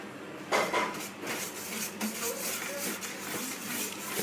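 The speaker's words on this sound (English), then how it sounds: "add a little bit of the dry ingredients at a time, and then you want to mix them in, then add more dry" Dry ingredients are worked into a vegan meat mixture in a bowl, with close, uneven scraping, knocking and clattering against the bowl throughout.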